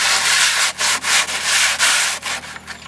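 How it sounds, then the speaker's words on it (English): Hand sanding a wooden garden pallet: loud, close rhythmic rubbing strokes of sandpaper on wood, several back-and-forth passes with short breaks between them, no talking. "The first job is to prep it and give it a really good sand"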